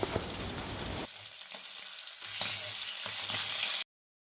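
Anchovies frying in a pan of hot oil, a steady dense sizzle with crackling bursts, close and loud, then cutting off abruptly near the end.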